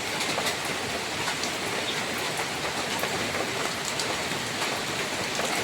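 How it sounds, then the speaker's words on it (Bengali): Rain falls heavily during the rainy season in a steady, dense hiss with faint scattered ticks of drops landing on surfaces, close and unbroken, with no talking. "দেখছো বৃষ্টি কেমন ভাবে পড়ছে।"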